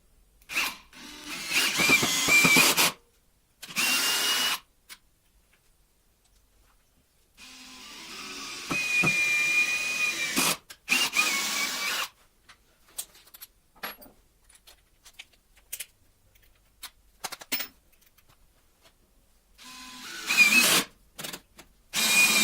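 A DeWalt drill drives screws into solid wood in several separate bursts of loud, close whirring, each a second or few long, with quiet gaps and small handling clicks between runs.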